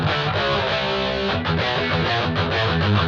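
A heavy thrash-style distorted electric guitar played through a Boss GX100 patch chugs out palm-muted riffs with sustained saturated chords, loud and dense with no voices.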